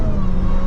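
Supercharger whine from a Dodge Charger Hellcat in highway traffic: a loud, steady high-pitched tone over deep engine drone, heard from inside the car in one brief continuous burst.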